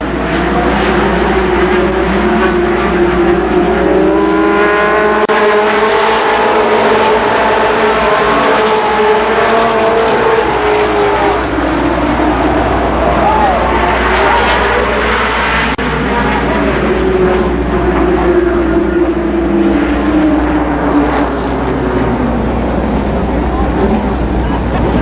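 Late model NASCAR Winston Racing Series stock cars race at Columbus Motor Speedway, their loud engines droning and sweeping past continuously with rising and falling pitch under an announcer's voice.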